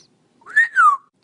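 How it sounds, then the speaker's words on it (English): A parakeet gives a short two-part whistle, the first note sliding up and the second gliding down, clear and close in otherwise quiet surroundings. "Parakeet."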